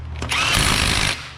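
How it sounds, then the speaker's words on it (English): A pneumatic impact gun fitted with a torque stick hammers a fastener tight in one short, loud rattling burst, close by, with no voices. "allowing me to use an impact gun"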